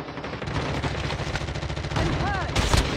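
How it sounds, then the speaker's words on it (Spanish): Rapid automatic gunfire in a multiplayer shooter video game, a dense burst of loud close shots running continuously, with a brief heavier blast near the end. "Claro, me disparó."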